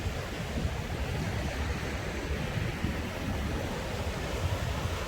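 Cool sea wind blows at a mangrove viewpoint where the mud meets the sea, a close, steady rushing roar with waves mixed in and no talking.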